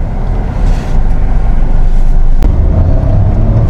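Kia Syros turbo petrol engine in first gear, a steady loud low rumble of the motor pulling from neutral with rising revs, heard from inside the car with no talk over it.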